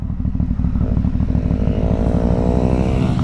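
Mopeds passing close on a road, a loud continuous buzzing engine drone with rising pitch that swells past, heard from a moving motorcycle with steady rumble throughout.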